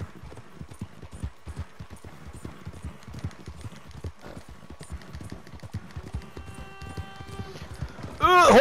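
Rapid hoof clops patter steadily from a horse in motion in Red Dead Redemption 2, with faint talking mixed in and a brief burst of louder sound at the end.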